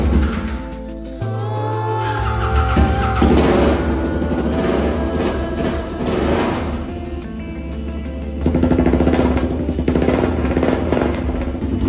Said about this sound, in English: Now I'm going to start up this engine once more